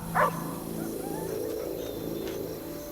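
Buddy the dog from Arizona Sunshine 2 VR gives a single short bark near the start, then only a low ambient hum from the game continues.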